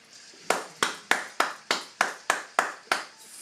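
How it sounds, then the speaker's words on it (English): A small handful of hands clapping in a slow, even rhythm, about nine distinct sharp claps spaced evenly apart, close and fairly quiet, given as a round of applause for Joey Moreno. "his round of applause"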